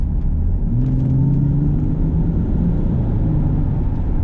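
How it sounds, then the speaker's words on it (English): A 2013 Range Rover Sport 3.0 SDV6 diesel engine hums and rumbles steadily, rising slightly in pitch as it accelerates, with a low, smooth drone throughout. "As you can tell from the noise alone, the car remains smooth but does pick up power very effectively."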